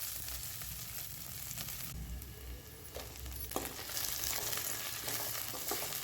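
Green chillies with curry leaves and garlic fry quietly in oil for Andhra-style gongura chutney, a faint steady sizzle with occasional stirring scrapes and clicks, close but low in level, no speech.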